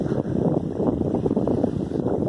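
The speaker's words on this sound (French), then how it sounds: "Et là, le vent est en train de réaccélérer." Wind gusts and roars across a microphone aboard a sailboat near an anchorage at Bahia San Marte, a loud, continuous buffeting rush.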